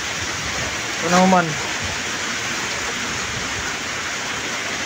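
Steady broadband rush of creek water flowing near a house, continuous and fairly loud, with a brief spoken voice over it early on.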